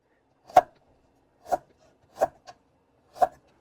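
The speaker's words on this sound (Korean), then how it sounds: "생강은 아, 편의로 썰어줍니다" Ginger is cut into slices with a knife. Four crisp, evenly spaced thuds of the blade hitting the board sound close and isolated, with one faint extra tap and near silence between them.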